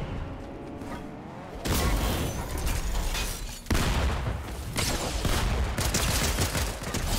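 Gunfire in the Fortnite Zero Build video game, a dense run of shots that jumps louder around the two-second mark and again near four seconds, then carries on steadily to the end.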